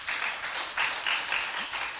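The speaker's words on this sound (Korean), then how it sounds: "하나님께 영광의 박수 올립시다." A church congregation at a Sunday afternoon service claps together, a faint, distant applause that rises and falls in soft waves for about two seconds.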